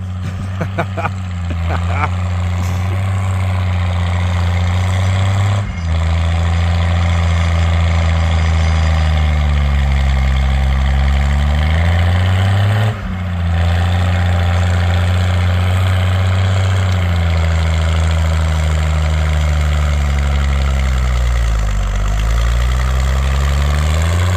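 A combine harvester engine with an erratic governor idles loudly and steadily, its low rumble dipping and surging a few times as the revs shift.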